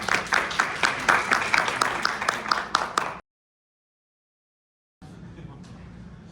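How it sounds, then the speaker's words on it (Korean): Hands clap in audience applause at a smart-manufacturing results seminar in Incheon, dense and rhythmic for about three seconds before cutting to silence, then a quieter stretch of room sound follows. "다시 한번 큰 박수 부탁드립니다"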